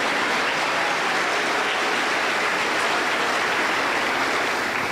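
A Pentecostal church congregation in Huancayo claps to welcome a women's choir at an anniversary campaign service, a dense, loud, continuous wash of applause that stays even throughout.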